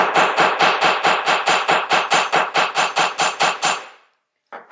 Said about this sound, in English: What I like to do is kind of hammer the one end of my wire flat